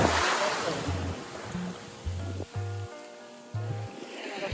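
Ocean surf washing onto the beach at a Bangkok resort, a steady broadband rush of breaking waves with faint low tonal sounds underneath and no clear speech.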